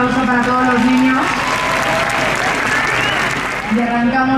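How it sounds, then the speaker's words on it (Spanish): A crowd claps in sustained applause for children at a Christmas lights switch-on, while a voice carries on over it, and the clapping keeps going beneath the talk throughout. "un aplauso para todos los niños"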